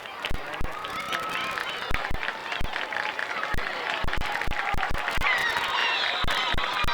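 Crowd noise from the sideline at a 1986 high school football game between Munster and Highland, a steady broad roar with scattered sharp claps and thumps close by throughout, and a cheering voice rising near the end.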